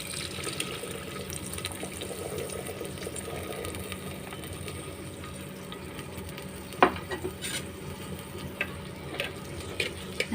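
A spoon stirs eggplant and cowpeas frying in a pan, giving a steady soft sizzle with scraping and one or two sharper clinks, close by, with no talking.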